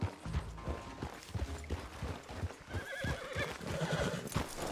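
A horse in the video game Red Dead Redemption 2 gives a loud whinny, joined by clip-clopping hooves and creaking tack, heard close and alone without speech.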